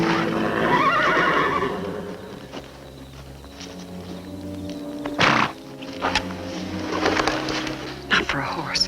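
A horse whinnies near the start, followed by scattered thuds and snorts amid background music and ambient outdoor noise.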